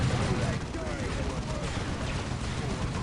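Continuous gunfire and explosions rumble through a Dawn of War Unification match between Vraxian Renegade Guard militia and Dark Angels, a dense battle din with someone talking over it.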